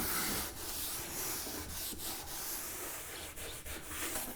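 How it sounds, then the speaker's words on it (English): Soft, continuous rubbing and scrubbing of a wet rag against wood on a bench, faint and close, with a few short breaks in the wiping strokes. "Just gonna take a wet rag and wipe that out."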